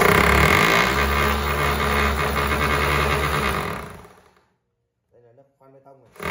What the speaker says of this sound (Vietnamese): Đây là nấc đục bê tông.